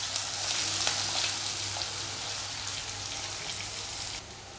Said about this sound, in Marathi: हे बघा, तेल आता गरम झालंय. त्यामध्ये हे मी 2 कांदे बारीक केलेले ते घालून घेते.